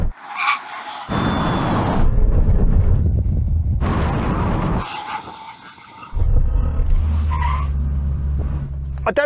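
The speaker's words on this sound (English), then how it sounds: "now we have a brake test from 100 miles an hour. When we reach the line, full emergency stop" Several SUVs, including a Porsche Cayenne Turbo, Lamborghini Urus, Jeep Trackhawk, BMW X6 M and Tesla Model X, roar past and brake hard in a full emergency stop from 100 mph, with loud engine and wind rush coming in repeated bursts.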